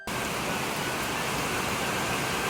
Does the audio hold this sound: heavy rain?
yes